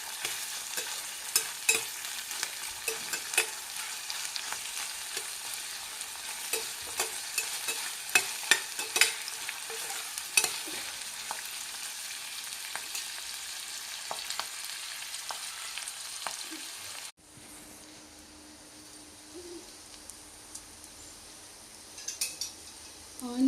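Onions frying in a pan for a mango and sweet potato curry, with a steady soft sizzle and scattered scraping clicks of stirring, then a quieter stretch after an abrupt cut with occasional spoon knocks.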